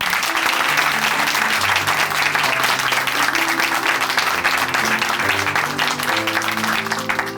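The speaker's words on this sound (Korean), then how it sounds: "큰 박수 보내드릴게요" A church congregation in Chuncheon gives a loud, steady round of applause at the close of a testimony program, with keyboard music playing underneath the clapping.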